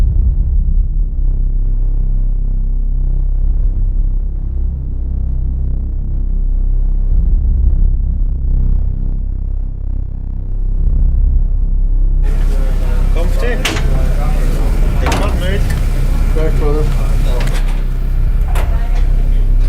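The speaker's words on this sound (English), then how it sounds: "He's taking the start in his Proton competition Porsche" Proton Competition Porsche race cars sit at the race start with engines running as a loud, steady low rumble. Partway through, the sound turns busier and brighter with sharper mechanical noise.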